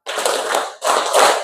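Hands clap in unison during a counted group clapping game in a counseling class, giving two loud, close bursts of applause-like claps separated by a brief gap, with no voices.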